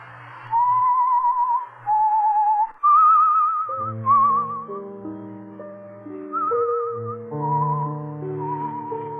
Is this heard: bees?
no